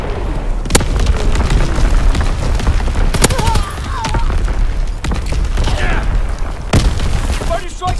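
Enemy artillery strike in the Call of Duty WWII video game, with repeated loud shell explosions hitting in an irregular sequence over a constant roar of battle, sharp cracks cutting through and voices shouting over the din.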